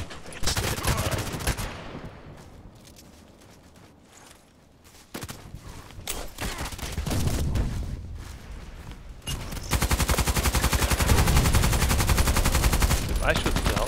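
SCAR-L rifle gunfire in a shooter video game, with long loud rapid bursts and scattered shots, a quieter stretch in the middle and then sustained heavy automatic fire toward the end.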